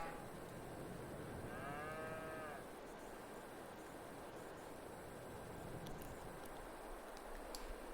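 A single cow moo from the Farming Simulator 22 video game sounds faintly early on over a steady hiss of farm ambience, followed by a few scattered light clicks later.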